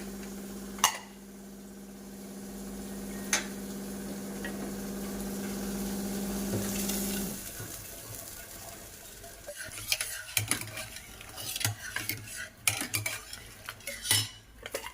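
Tadka tempering poured into dal with a steady sizzle, then a spoon stirring with irregular metallic clinks and scrapes against the pot, close by.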